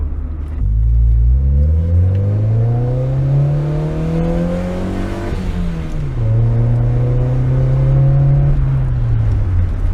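Honda Civic EJ6 Vaillante with an HKS Hi-Power exhaust revving up twice, each climb rising in pitch to a raspy peak before dropping back, close and loud with no talk.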